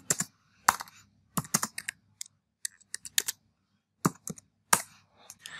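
Code is typed on a computer keyboard in irregular bursts of sharp, close clicks and clacks, with brief pauses between clusters of keystrokes. No voice is heard.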